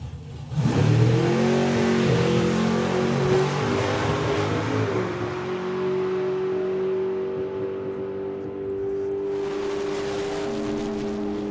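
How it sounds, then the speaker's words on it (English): Drag race car at the Bug Jam festival making its first checkout pass without nitrous: a loud engine howl that climbs sharply, then holds a steady, high droning note to the end, with no talk. "this could be just a motor pass, just to bed in for the weekend"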